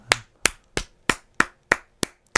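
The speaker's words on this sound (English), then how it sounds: "Right here, clapping." Slow, deliberate hand claps, eight sharp close strikes spaced evenly about a third of a second apart, each ringing briefly in a quiet room.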